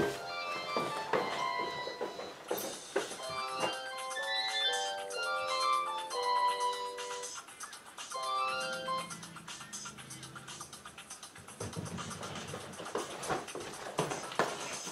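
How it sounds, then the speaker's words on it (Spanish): A telephone ringtone plays a bright, repeating electronic melody through most of the stretch, loud and close, with a break partway and a low hum and clatter underneath, and no talk over it. "está sonando el teléfono justo en medio de la grabación"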